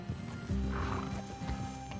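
A horse whinnies while hooves clop and shuffle nearby in Red Dead Redemption 2, the neigh rising over steady ambient game noise.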